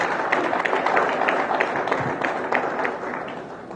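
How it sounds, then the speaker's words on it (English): An audience at a merit awards ceremony claps for a certificate recipient, a lively burst of applause with distinct sharp claps standing out, gradually thinning toward the end. "A round of applause for him again."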